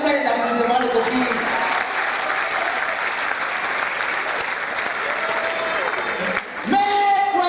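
A crowd at a wedding applauds steadily and loudly for several seconds, with voices and tonal sounds running through it, then breaks briefly before the clapping resumes.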